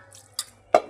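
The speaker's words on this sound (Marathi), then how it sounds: "पानी उधर गया" Water drips and splashes in a home, two short wet plops about a third of a second apart, the second louder, over a faint low hum.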